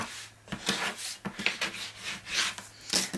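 A bone folder burnishes a crease into paper for a journal cover, a series of short dry rubbing strokes, close and fairly quiet, repeating in an uneven back-and-forth rhythm.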